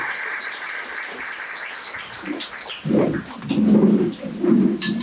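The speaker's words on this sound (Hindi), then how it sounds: "जोरदार ताली परमेश्वर पर।" A church congregation gives God loud applause during a Hindi worship service: a few seconds of thick, even clapping that thins out, followed by the preacher's voice.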